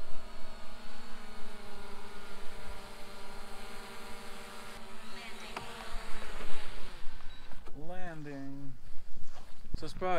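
A camera drone in flight gives off a steady, close, insect-like buzzing whine that shifts pitch slightly, with people talking over it toward the end.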